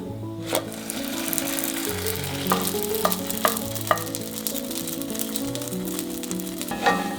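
Cheese-filled roti canai, a Malaysian flatbread, fries in a pan with a constant close sizzle, punctuated by several sharp scraping and tapping clicks from a utensil against the pan.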